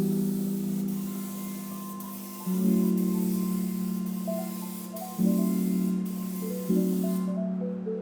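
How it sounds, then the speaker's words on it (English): Spray gun laying a first coat of paint on bare-metal Caprice fenders, heading toward a glossy pink finish; a steady close hiss runs alone in long passes, with brief pauses and a few faint clicks between strokes. "make sure you have really good technique and the spray pattern is nice and tight"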